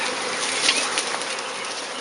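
A swarm of honeybees being collected outdoors, giving a dense, steady buzzing hum that stays loud and close throughout with no voices.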